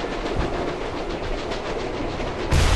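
A train rolls along in the video game Captain America: Super Soldier, giving a loud, continuous rumbling clatter with a rhythmic beat and a heavier low thump near the end, without any talking.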